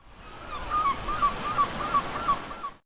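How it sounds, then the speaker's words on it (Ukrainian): Natural outdoor ambience with waves washing in, a soft rolling surge that holds steady while a few faint honking bird calls repeat through it. "на хвилинку вони затихли та поринулись звуки природи"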